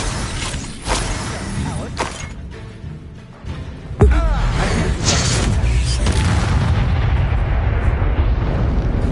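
Confringo fire blast spells from Hogwarts Legacy go off in heavy booming bursts: a few blasts early on, then a big explosion that sets off a long, loud rumbling roar.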